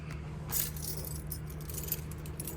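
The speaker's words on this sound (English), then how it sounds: "Got one of the keys here." Metal car keys for a 1967 Dodge Coronet R/T jangle in a few bright bursts over a steady low hum.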